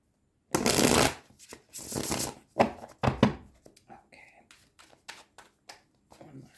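A Gilded Tarot deck is shuffled and mixed by hand, with several bursts of riffling and sliding cards followed by softer taps and handling, close and clear.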